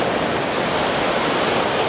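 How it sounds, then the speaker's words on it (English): Waves rolling into a small rough-water bay at sunset, a continuous dense wash of surf noise, steady and fairly close without talk. "Got some beautiful waves coming in now"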